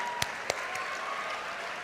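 Applause at a university convocation ceremony, a steady wash of clapping from the assembled audience with a couple of sharper claps standing out near the start, even and fairly distant throughout.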